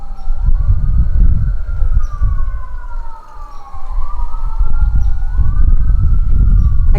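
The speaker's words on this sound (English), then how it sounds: "I don't know if you can hear that, but it's a car chase." Sirens from a police car chase wail and rise and fall at a distance, layered with rumbling traffic and vehicle noise that swells and dips.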